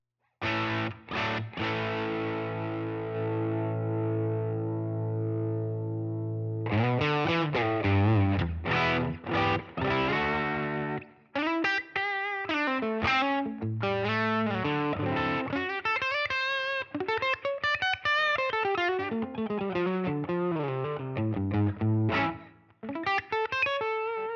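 Distorted electric guitar played through a Line 6 POD Go using the US Deluxe amp model with a 1x12 cabinet, starting with a sustained chord, then choppy strummed chords and a fast, bending lead line, loud and steady with no talking.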